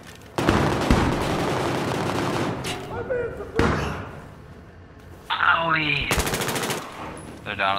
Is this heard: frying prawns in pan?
no